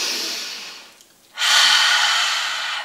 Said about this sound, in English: take 2 big breaths together